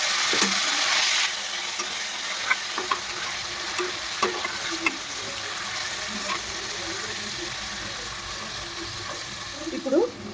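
Mutton pieces sizzle in hot oil with well-fried onions, stirred with scraping spoon strokes and a few clinks, a steady close frying hiss throughout with occasional speech.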